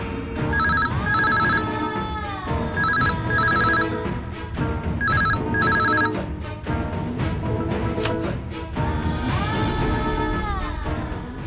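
A telephone rings repeatedly in paired electronic bursts over a noisy background with music-like tones, loud and close.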